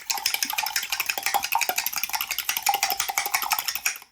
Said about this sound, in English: Break the yolks and give it a good mix.